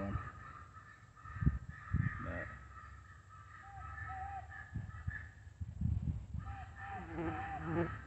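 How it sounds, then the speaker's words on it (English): An electronic caller plays a crow and owl fight during an Indiana crow hunt on a windy day, giving repeated harsh caws and hooting calls over steady wind rumble, with some talk in the background. "I've got crow and owl fight going."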